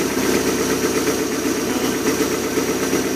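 A 1988 Larson boat's OMC 3.0 120-horsepower engine idles in a loud, even, rumbling drone with a faint rhythmic knock, heard close up and alone.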